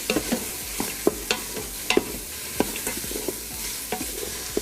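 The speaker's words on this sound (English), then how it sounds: "I'm just gonna add a little bit of salt and pepper in here. And then mix it up a little bit." Vegetables seasoned with salt and pepper being stirred in an Instant Pot, steady sizzling under repeated scraping and clacking of the utensil against the pot, close by with no talking.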